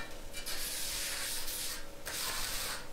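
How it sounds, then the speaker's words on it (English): Mortar mud being screeded across a shower floor, a close, steady scraping and rubbing with a few sharper gritty swipes, quiet and without talk. "as you're screeding across it"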